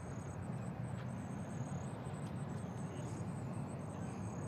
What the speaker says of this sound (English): They're 2 miles out in a Boeing 737 MAX 8.